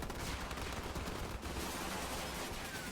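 A sustained onslaught of rapid gunfire, like a battle sound effect, with dense overlapping shots forming a continuous roar that stays loud and unbroken for the whole stretch.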